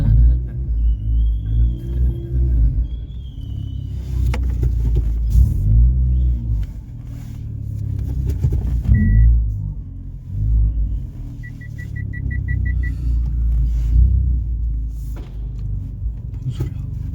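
A car engine rumbles at low speed inside an echoing underground apartment parking garage, with tyre noise, a few electronic beeps, and a rapid beeping warning tone near the end.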